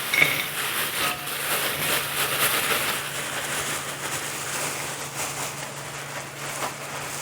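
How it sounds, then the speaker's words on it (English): Coated muddy buddies pour from a bag into a bowl with a steady rustling, pattering hiss of small chocolate-and-powdered-sugar cereal pieces, close and continuous, fading slightly toward the end. "And then we're gonna dump it out of our bag into a bowl."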